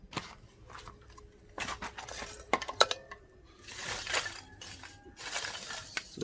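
Lumps of coal clatter and clink as they are loaded into a coal stove outdoors, with irregular metallic scrapes and small knocking bursts, fairly close and moderately quiet.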